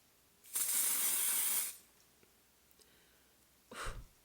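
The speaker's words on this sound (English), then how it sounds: "spray it on my face and hope to not die" An aerosol makeup setting spray sprays onto a face in one long, bright hiss lasting about a second, then a short second puff after a pause.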